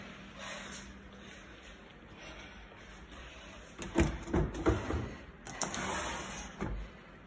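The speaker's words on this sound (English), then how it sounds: "That's a loud one, see? I just opened up the drawer." A loud drawer is pulled open in a house in Osprey Cove, North Jacksonville, NC, giving a cluster of sharp scraping, rattling knocks in the middle of a quiet room, then a few softer clunks.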